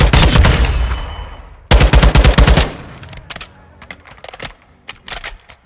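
Fully automatic fire from a TAC 56 rifle in Call of Duty DMZ crackles out in two loud rapid bursts, followed by shorter scattered shots and fainter distant gunfire.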